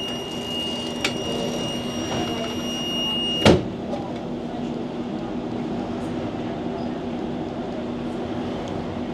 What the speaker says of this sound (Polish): I tramwaj za sekundę ruszy